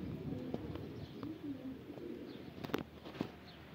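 Pigeons cooing nearby in soft, low, repeated murmuring calls, with a few faint chirps and brief clicks over quiet background noise.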